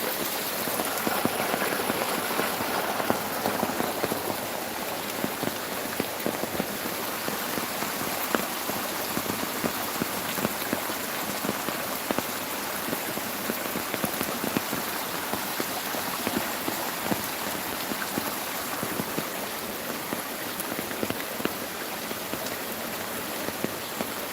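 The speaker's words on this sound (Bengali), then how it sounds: "প্রচুর বৃষ্টি আর হচ্ছে বন্যার পানি" Heavy rain pours steadily during a village flood, a dense, constant hiss of drops striking water and surfaces, loud and close throughout with no voices.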